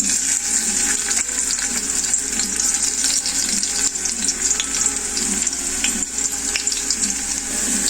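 Garlic frying in sunflower oil in a pan, a steady, loud hiss and crackle of sizzling that runs unbroken from start to finish, with no voices.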